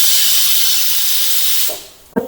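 A pressure cooker whistle vents steam with a loud, steady hiss for nearly two seconds while beef liver cooks, then fades and ends with a short thump.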